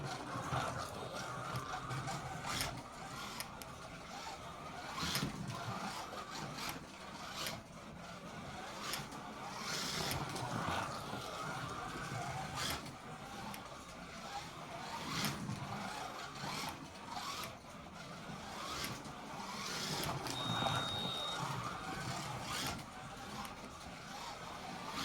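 A Carrera slot car on stock tires, non-magnet setup, runs a lap, giving a steady close whirring rasp of motor and tires with small periodic clicks, no talking.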